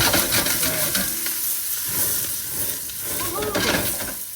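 Pepper and onion frying in a thin-bottomed wok with oil, oregano and cumin seed, a steady close sizzle with stirring scrapes throughout, no talking.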